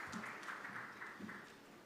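Steady applause from a marketing keynote audience, many hands clapping together in a continuous wash, moderately loud with no voices standing out.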